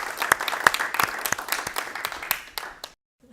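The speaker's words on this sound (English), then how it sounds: "let's give you a round of applause." Sparse applause from a small meetup audience for a presenter, a handful of distinct claps thinning out and stopping abruptly into silence.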